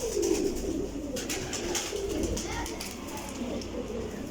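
Pigeons cooing close by, low throaty calls repeating over a steady background murmur.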